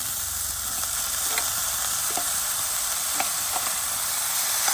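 Chopped banana flower frying in a hot pan with oil, a steady loud sizzle and hiss that runs on without a break, with faint stirring scrapes and no talk.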